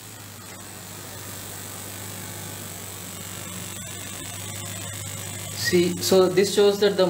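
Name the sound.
irrigation system motor running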